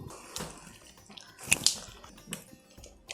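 Water is poured into a thick batter for savoury starters, giving soft splashing and gurgling in a few uneven bursts, faint and close, with quiet pauses between pours.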